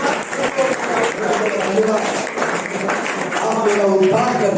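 A church congregation claps hands together in a broad, sustained wash of applause during a Hindi worship service, with voices speaking and calling out over the clapping throughout.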